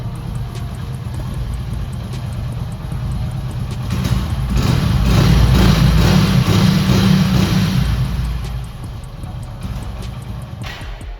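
A Hero HF Deluxe BS4 motorcycle engine with a misfiring problem runs close by, its note rising as the throttle is held to raise the revs, staying high for several seconds, then easing back toward idle.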